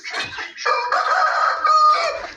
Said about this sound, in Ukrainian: Так, кури злітають.